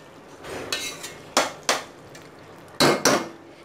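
Keema biryani ingredients and chopped capsicum being stirred and tossed in a pot, giving several sharp metallic clanks of a spoon against the vessel with softer scraping between, fairly close and without talk.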